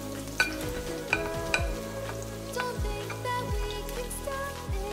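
Onions and garlic sauté in a pan with a steady, soft sizzle and occasional light stirring clicks, close and quiet, continuous throughout with no talk.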